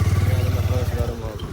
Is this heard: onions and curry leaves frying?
no